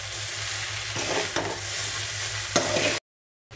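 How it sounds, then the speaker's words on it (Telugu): Noodles being stirred with noodle masala in a hot pan, sizzling and scraping steadily for about three seconds, close up and alone before cutting to silence. "నూడిల్స్ మసాలా వేసినాక ఒకసారి బాగా కలుపుకుందాము"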